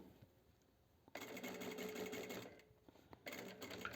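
A sewing machine stitches a midi dress with elastic shirring, starting after a quiet moment and running in a steady close whir for about two seconds, pausing briefly, then starting again.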